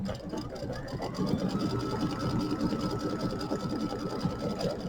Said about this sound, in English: so now I think it's going to do the red satin stitch border on this one.